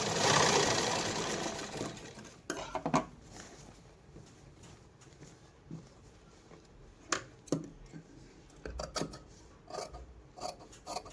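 A sewing machine double-stitching a blouse made from a Katpadar sari runs in bursts of rapid mechanical chatter, with a louder run at the start and then short stop-start stitching close by.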